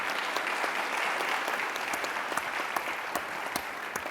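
Steady, dense audience applause fills the room for fashion designers at a music-and-culture event, a continuous wash of clapping with scattered sharper claps standing out, no voices on top.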